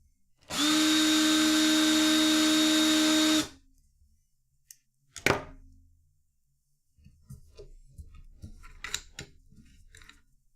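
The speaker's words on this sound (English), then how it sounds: "I haven't charged this drill once, and I've used it a lot." A cordless drill whirs loudly and steadily for about three seconds, then stops; a sharp clack and some quieter handling noises follow.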